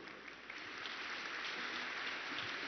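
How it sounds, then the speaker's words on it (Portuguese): Congregation applauding inside a basilica sanctuary during a solemn novena, a soft, diffuse wash of clapping that holds steady and slightly swells over a few seconds. "numa calorosa salva de palmas"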